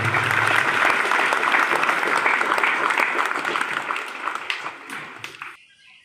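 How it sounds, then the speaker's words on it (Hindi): Loud applause from a church congregation welcoming a newly ordained Jesuit priest at an ordination Mass, a dense sustained clatter that holds steady, then thins and fades out near the end. "जोरदार तालियों से हम उनका स्वागत करें"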